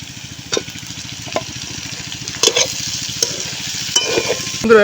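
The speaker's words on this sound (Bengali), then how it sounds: "বিন বিট আলু ভাজা হয়ে গেছে আমরা দিয়ে দেবো হলুদ" Beans, beetroot and potatoes fry in a pan with a steady crackling sizzle, broken by a few sharp scrapes and clacks of a spatula stirring.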